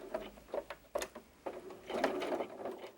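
A sewing machine stitches a small pocket onto a doll jacket, with short bursts of close, quiet mechanical whirring and clicking that start and stop several times.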